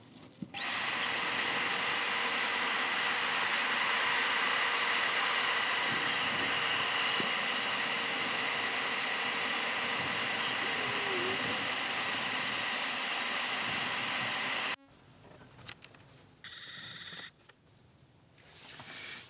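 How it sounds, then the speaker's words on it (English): Steady, loud whine of a spinning lathe while a spalted scrap-wood turning is sanded, a continuous hum running for about fifteen seconds before stopping abruptly, followed by a few quieter clunks and shorter bursts of motor noise. "all set up for sanding"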